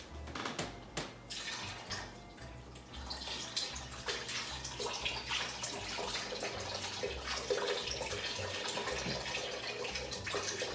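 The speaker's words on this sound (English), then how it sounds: "So in this pan over here, I must put 500 milliliters of water." Water, 500 milliliters, pours into a cooking pan in a kitchen, a continuous splashing, gurgling stream with fluctuating intensity, close and fairly quiet.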